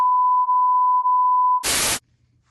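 A phone notification beep sounds as a steady, loud, close electronic tone that holds for over a second and a half, then ends in a brief hiss of noise and silence.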